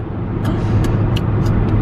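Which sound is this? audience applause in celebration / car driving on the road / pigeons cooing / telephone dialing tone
car driving on the road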